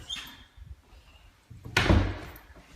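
An outswing door in a remodeled house opens with a faint rattle, then hits with a sharp, loud thump and a brief rumble near the end.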